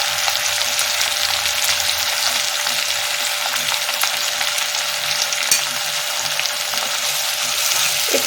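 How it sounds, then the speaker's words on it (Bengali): Spices with turmeric fry for paneer masala, a loud, continuous close sizzle with a few faint stirring clicks. "একটু নাড়াতে থাকি। এখন আমি একটু হলুদ দিয়ে দিচ্ছি এর সাথে।"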